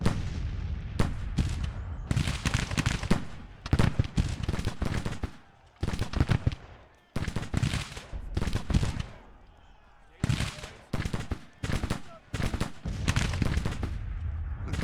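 Musket volleys and cannon fire from Grand Tactician: The Civil War, a Federal summer 1861 battle, crack in repeated dense bursts with brief gaps, loud and continuous across the clip.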